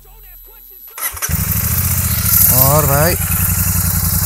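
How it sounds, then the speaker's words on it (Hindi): A Royal Enfield Super Meteor 650 motorcycle engine cranks and catches about a second in, then settles into a loud, close, steady idle. Someone talks briefly before the start and again over the running engine. "अब बाइक को मैं स्टार्ट करता हूँ"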